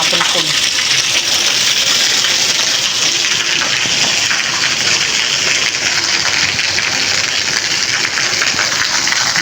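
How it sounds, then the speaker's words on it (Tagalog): Loud, steady rushing rainwater fills the scene during a sudden morning downpour in the UAE, a constant broadband roar with no pauses. "ang lakas ng lagasgas ng tubig."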